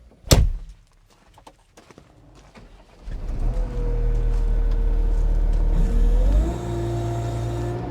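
A 2022 New Holland C332 rubber-track skid steer loader with cab cranks after a clunk and catches, its diesel settling into a steady loud idle before the revs step up and hold.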